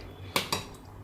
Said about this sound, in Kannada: ಕುಕ್ಕರ್ ಲಿಡಲ್ಲಿ ಕ್ಲೋಸ್ ಮಾಡಿದ್ದೀನಿ